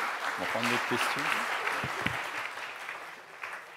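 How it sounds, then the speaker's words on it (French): Conference audience applauding after a talk on entrepreneurship, a dense clapping wash that gradually fades, with a voice speaking briefly under it near the start. "Je pense qu'on peut vous applaudir."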